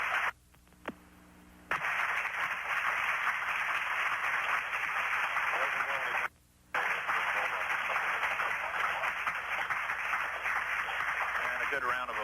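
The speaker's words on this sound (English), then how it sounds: "And a good round of applause from mission control flight controllers." Mission control flight controllers applaud the Space Shuttle crew in a sustained round of clapping heard over a radio-like channel, with brief dropouts and talk mixed in.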